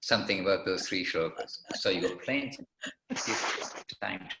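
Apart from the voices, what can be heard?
No everyday noises stand out.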